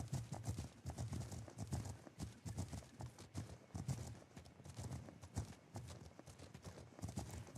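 Horse hooves clip-clop in a steady, brisk rhythm in a video game, close and clear, with a brief spoken word over the hoofbeats.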